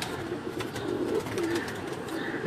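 Pigeons of a fancier's pair coo in low, rolling phrases, several overlapping calls repeating steadily at close range with no talk over them.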